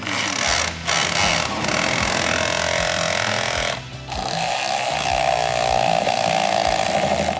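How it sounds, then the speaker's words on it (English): A Snap-on cordless quick change bit ratchet with variable speed whirs in loud, steady bursts close by, pausing twice briefly, with faint clicking and handling noises in the background. "I have the quick change bit ratchet, low profile head, LED light, variable speed, so slow or fast."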